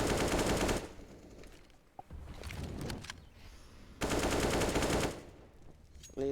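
AK rifle bursts in a competitive Counter-Strike match on Inferno, sharp rapid gunfire in two dense volleys with quieter gaps and scattered clicks between, plus a brief shot at the very end.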